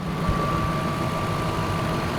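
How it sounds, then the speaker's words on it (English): A 24-year-old car's engine idles right after start-up, a steady, smooth low hum with a faint constant whine, even and unbroken throughout. "Starts right up, and listen to that engine."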